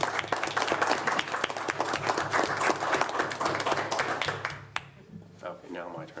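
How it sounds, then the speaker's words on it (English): Applause fills a city council chamber at a February meeting, a dense, steady patter of many hands that runs about four and a half seconds, then breaks off as a voice starts talking. "I think he deserves some applause for"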